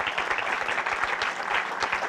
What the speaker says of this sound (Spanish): un aplauso porque ella financió esta pequeña edición